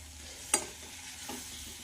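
A spoon stirs a pumpkin curry loosened with a little water in a pan, making a few separate scraping strokes up close against a soft background hiss.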